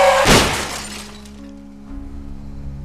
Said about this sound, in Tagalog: Humabig ang manibela at bumangga sa bangketang sasakyan.